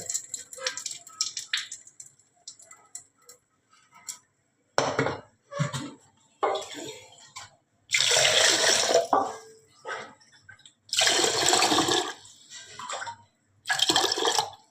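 Bursts of sloshing, splashing water come in several separate rounds with quiet gaps between, as rice grains are swished and rinsed in a bowl, close up.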